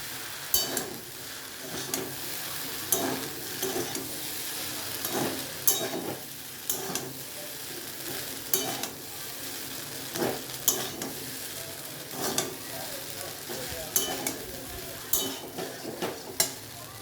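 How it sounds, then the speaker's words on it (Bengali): Pasta stir-fried in a pan with soy sauce, soft continuous sizzle under repeated scraping strokes of a spatula against the pan, steady and moderately close, no talking. "সয়া সস দিয়ে ভালো করে ফ্রাই করে নেবেন"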